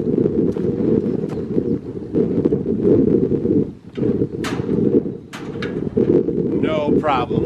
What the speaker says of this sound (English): Let's go in the shop out of this crazy wind.